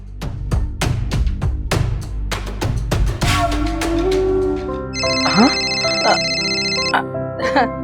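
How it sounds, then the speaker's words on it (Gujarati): A mobile phone ringtone starts partway through and plays a bright repeating melody in a home in a Gujarati family drama. It follows talk and knocking sounds, and a voice speaks briefly over it. "સ્વીટીનો ફોન."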